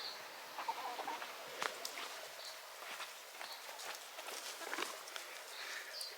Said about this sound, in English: Look at that crazy chicken.